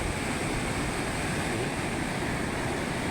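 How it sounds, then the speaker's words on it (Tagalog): Strong river current rushing near a gemstone site in the Philippines, a steady dense roar of water close by with no pauses and no voices. "Malakas yung tubig mga idol."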